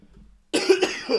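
A single short, harsh cough bursts out close up after a moment of near silence.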